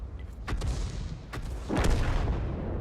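Tank cannon fire in World of Tanks hits a Ferdinand: several sharp, booming shots ring out at uneven intervals, with the last blast heavier and followed by a rumbling tail.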